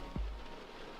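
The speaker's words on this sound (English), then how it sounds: "Now we're just getting mauled with rain." Heavy rain pours down over a boat yard and dirt driveway at a fishing operation, a steady, dense hiss that fills the whole moment without pause.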